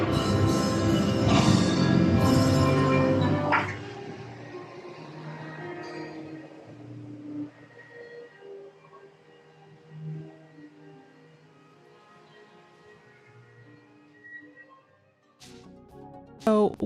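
Evening music aboard a cruise ship with violins and a singer, loud and close at first, then fading to a softer, distant mix of strings and voice amid murmuring room ambience.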